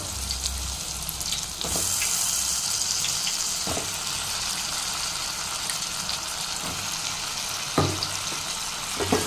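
Potatoes sautéing in a tomato masala for a potato and peas gravy: a steady close sizzle with occasional scraping stirs and clinks throughout, no talking.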